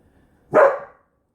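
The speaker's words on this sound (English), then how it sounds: "Bruce, just go outside, don't bark." A single sharp bark from a pet dog named Bruce, close and loud, about half a second long, then silence.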